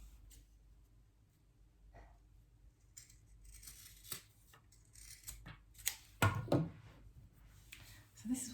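Scissors snip through fabric corners while trimming raw edges on a mini backpack, several quiet crisp cuts with a louder cluster near the end, against a low room hum.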